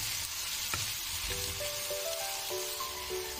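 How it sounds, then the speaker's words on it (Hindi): Capsicum fries in a pan, giving a steady, close sizzle with a faint tonal whine and occasional small knocks, with no talking. "इसके अंदर आपने कैप्सिकम डालना है यानी शिमला मिर्च आपने डालनी है और इसको भी आपने अच्छी तरह से फ्राई करना है।"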